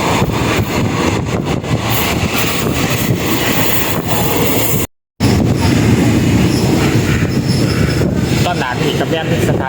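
Loud, continuous rumble and clatter of State Railway of Thailand train 431 heard from on board, running beside the Lam Takhong in the morning, with a brief cut in the middle.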